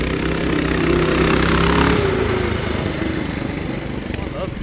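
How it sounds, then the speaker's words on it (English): A Tillotson 212 small engine on a Coleman mini bike runs close and loud with a steady mid-pitched drone, its pitch rising briefly and then settling into idle as people talk nearby. "It's a good, reliable engine."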